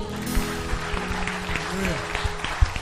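A church congregation applauds during worship, steady clapping over a sustained musical backing, with a voice singing or speaking briefly amid the applause.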